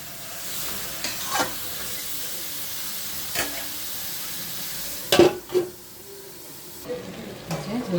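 Cut bottle gourd is stir-fried in a pan with spiced fish, sizzling and hissing steadily while a spatula scrapes and stirs in several sharp strokes.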